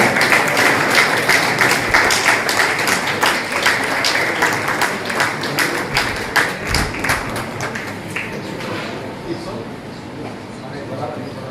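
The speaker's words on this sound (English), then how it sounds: "A big round of applause for this exemplary figure" An audience at a college alumni reunion gives a round of applause, a dense patter of claps that gradually thins and fades toward the end, with a few thumps and a voice faintly underneath.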